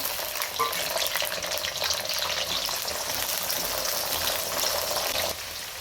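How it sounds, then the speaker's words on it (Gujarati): Steady, dense frying of papdi beans in hot oil, a constant bubbling sizzle that holds level throughout and drops slightly in loudness near the end. "હવે આપણે પાપડીને પણ તળી લઈશું જોડે."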